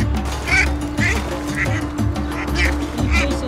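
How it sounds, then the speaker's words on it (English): Ducks quacking repeatedly in a steady rhythm of calls as a young mink chases them outdoors, close and fairly loud over a constant low background rumble. "Good girl, chase those ducks."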